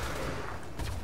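Submachine gun fire in Borderlands 2, a continuous rapid stream of shots that is fairly loud and steady across the brief moment.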